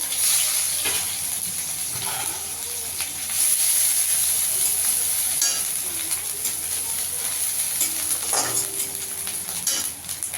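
Grated ginger dropped into frying whole cumin tempering in a pan, a steady bright sizzle and hiss with occasional light utensil clinks and stirring.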